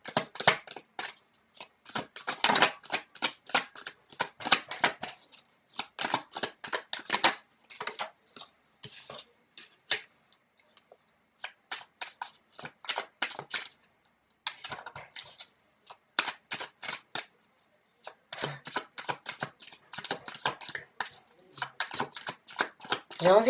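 Tarot cards are shuffled and drawn in repeated rapid bursts of riffling and flicking, close and crisp, separated by short quiet gaps.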